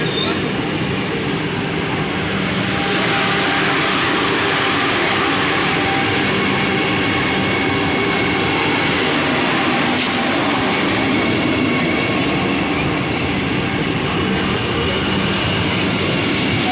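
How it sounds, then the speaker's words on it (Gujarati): A Vande Bharat train rushes past at close range while the listener sits aboard another train, producing a loud, steady roar of wheels and rails with faint clatter throughout, no voices heard. "અહીંયા વંદે ભારત ટ્રેન આવી ગઈ છે"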